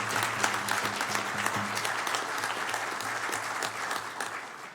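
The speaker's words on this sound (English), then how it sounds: "give a round of applause" A room of people applauds at a city council meeting honoring a retired Parks Department worker, a steady, even wash of clapping held at moderate distance throughout with no voices.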